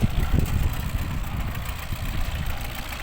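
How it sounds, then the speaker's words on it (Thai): The engine of a rice seeding machine runs steadily, a close, loud, low throbbing idle with constant vibration and no talking. "เครื่องหยอดข้าว"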